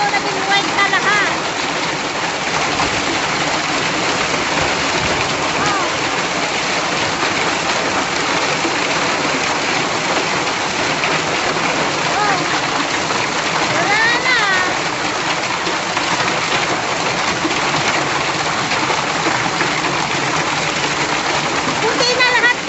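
Freezing rain mixed with large hailstones pours down outside in spring, a dense, loud, continuous hiss and patter on surfaces, with a person speaking over it.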